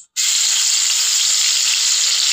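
A sharp, loud burst of sizzling as onion and garlic paste hits hot oil in a kadai, starting abruptly and holding a bright, even hiss for about two seconds, close and alone.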